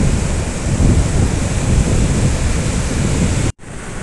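Sea waves roll in at the seashore, a loud, broad, continuous roar of surf close by with wind buffeting, cutting off abruptly near the end.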